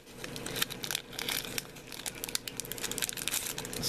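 Backing being peeled off a Yu-Gi-Oh Metal Raiders booster pack: close, busy crinkling and crackling of foil wrapper with brief tearing sounds throughout.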